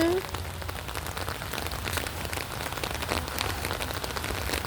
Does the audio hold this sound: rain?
yes